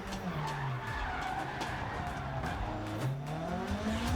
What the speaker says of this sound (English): I braked a little too much.